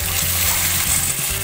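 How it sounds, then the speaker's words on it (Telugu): Small chopped tomato pieces drop into hot oil in a pan for a drumstick and potato masala curry, giving a steady, close, broad sizzle and hiss that carries evenly throughout with no talking. "ఇప్పుడు మనం కట్ చేసి పెట్టుకున్న చిన్న టమాటీ ముక్కలు అనేవి వేసుకోవాలి"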